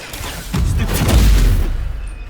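Casting the Incendio fire spell in Hogwarts Legacy sets off a swelling whoosh that erupts into a heavy booming blast for about a second, then quickly drops away.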